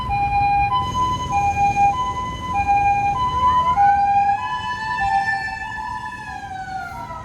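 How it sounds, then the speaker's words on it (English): A loud ambulance siren wails close by, alternating two tones before sliding into a rising and falling yelp, with road rumble underneath. "Now there's an ambulance coming, unbelievable."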